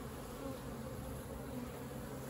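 Honeybees buzzing around an opened hive frame, a continuous dense hum with layered steady tones, close and even in level, with no talk.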